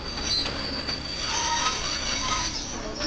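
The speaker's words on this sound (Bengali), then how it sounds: "কথাটি সঙ্গে এলো ট্রেনের প্রচন্ড জোরে ব্রেক মারার কর্কশ আওয়াজ" Train brakes screech loudly as a last evening train slows between Khidirpur and Prinsep Ghat; a sustained, harsh high-pitched squeal rides over steady rumbling wheels from start to finish.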